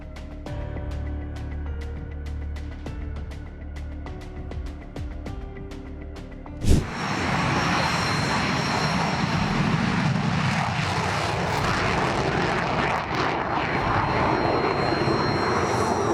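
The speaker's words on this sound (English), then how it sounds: "Dynamic display of Su-27 from Belarus at the air show in Radom, Poland ended in a crash." A Su-27 jet fighter roars through a dynamic air show display in Radom, Poland, its loud engine noise swelling into a sustained, broadband roar after a sharp thump partway through, with no voices.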